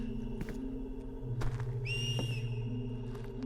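In a horror video game, a faint, thin whistle rises and holds briefly amid a low background drone and scattered soft knocks.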